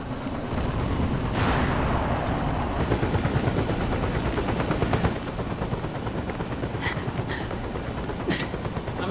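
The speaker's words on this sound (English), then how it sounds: "I'm setting the chopper down at the market square." A helicopter setting down at a market square in the video game Metal Gear Solid 4: a steady rotor chop with whine, joined by sharp bursts and clanks partway through, no speech.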